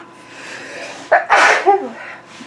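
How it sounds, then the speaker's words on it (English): A single loud sneeze bursts out after a soft intake of breath, close to the listener, with no talking around it. "I feel a sneeze coming on."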